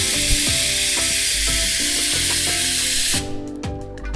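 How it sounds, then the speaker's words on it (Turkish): A heat-exchanger espresso machine's steam wand blasts out a loud continuous hiss, with gurgling, clicking pulses under it before the jet cuts off abruptly and leaves a few faint rattles. "kahve yaparken güçlü buhar almak mevzusuna bu makine sıcak olduğu için burada örnek vermek istiyorum"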